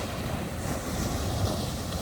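Ocean waves on Khao Lak beach on the Andaman Sea, a steady low surf wash with wind rumble across the microphone, continuous and fairly faint with no voices.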